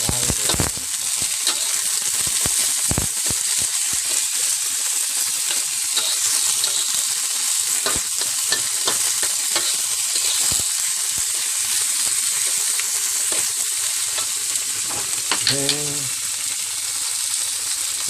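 Durian flowers sizzling in a pan with onions, a loud continuous hiss close up, with a few knocks and scrapes of stirring near the start and a brief clatter toward the end, no voices.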